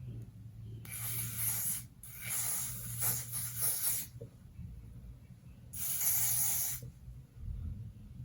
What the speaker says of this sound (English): I'm going to take the olive oil super hold wig cap spray and I'm just going to spray around the perimeters